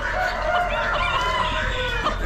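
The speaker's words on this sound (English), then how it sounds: "Young roosters." Several young roosters crow and cluck together at an Amish auction, their raspy, uneven calls overlapping loudly amid farmyard clatter.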